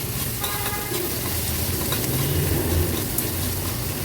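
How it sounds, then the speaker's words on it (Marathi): Chopped onion and seven or eight crushed garlic cloves sauté in a hot pan for an Agri-Koli style veg thali, giving a steady, close sizzle with occasional stirring scrapes throughout, no voices. "कांदा परतून झाला की चेचून घेतलेले सात ते आठ लसणाच्या पाकळ्या ॲड करूया लसूण देखील कांद्यासोबत व्यवस्थित परतून घ्यायचे"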